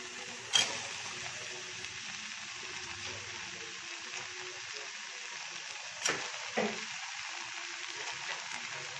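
Potatoes go into a pan of mashed-down frying tomatoes, giving a steady low sizzle with a few sharp clunks and scrapes near the start and around the middle, no voices.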